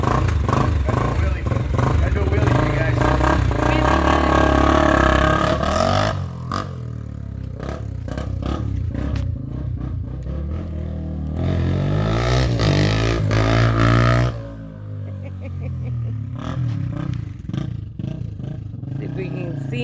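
Honda XR250 dirt bike revving hard during a wheelie around a house, a loud, close engine roar rising and falling over most of the stretch with clattering, while voices talk over it.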